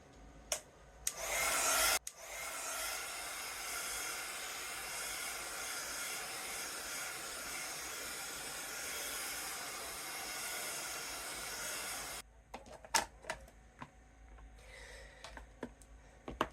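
Hair dryer drying paint on a card, a loud continuous hissing blast that runs steadily for about ten seconds before cutting off, leaving scattered light taps and handling noises.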